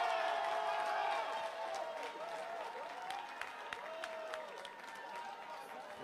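A hall audience at a company's third-anniversary speech claps steadily, a soft, distant wash of applause that thins out with scattered sharper claps and some crowd murmur.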